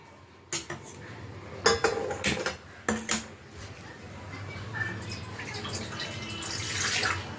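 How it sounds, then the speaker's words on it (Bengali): Water poured into a pot on the gas stove to parboil cut jackfruit and a small potato, preceded by several sharp clanks of the pot and utensils, then a rising splashing pour. "জল দিয়ে দিলাম এক ঘুটি"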